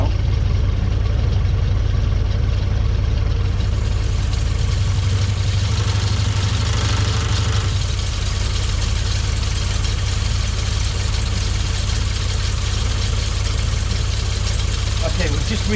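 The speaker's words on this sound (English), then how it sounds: "I don't know if you can hear me over this engine" An Austin-Healey Frogeye Sprite engine idling loudly and close with its distributor loosened for ignition timing adjustment, a steady low throb with a slight knock, and someone talking over it.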